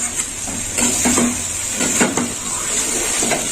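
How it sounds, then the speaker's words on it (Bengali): Red potato curry being stirred in a pan, a few scraping clinks of a utensil against metal over a steady soft sizzle. "ভালো করে নেড়ে চেড়ে নেবো।"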